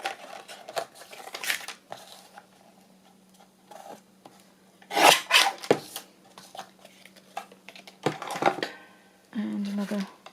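Paper for a fairy-themed journal is trimmed along its side with scissors, giving a few short crisp snips and rustles between quiet pauses, close by.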